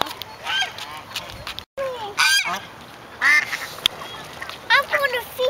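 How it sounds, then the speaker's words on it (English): Geese honk while being fed outdoors alongside ducks, several loud nasal honks arriving in bursts at close range, with quieter calls between them and people talking nearby. "Oh, real goosies are here."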